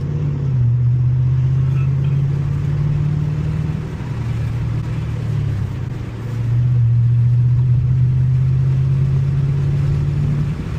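A manual Ford Mustang GT engine drones steadily while driving, a loud low growl that holds its pitch, dips briefly as if between gears, then settles back into a constant cruise.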